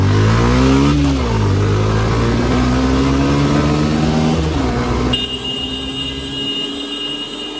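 A motorcycle engine revs hard while upshifting, its pitch climbing steadily, dropping sharply at each gear change and climbing again, loud and close like a rider's onboard recording, with strong wind noise and no talk.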